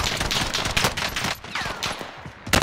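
Gunfire in the Warzone video game: rapid bursts of automatic shots, dense and fairly loud, fading briefly and returning near the end.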